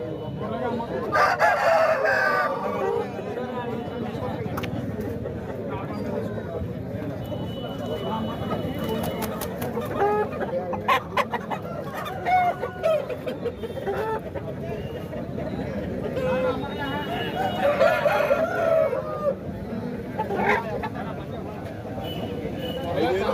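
Country roosters at a Saturday poultry market crow repeatedly near and far while hens cluck, all under steady bargaining talk and general market chatter.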